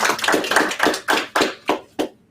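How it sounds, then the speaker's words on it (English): Applause at a 1 Million Cups Fairfax startup meeting, a short burst of hand claps that rises together, then thins to a few separate slaps and stops, fairly close and with no talking over it. "Let's give them a round of applause."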